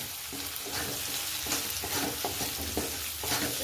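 Crushed peanut powder being stirred into cooked potatoes for sabudana khichdi in a pan, a soft continuous sizzle with repeated gentle scraping strokes of a spoon, close and fairly quiet.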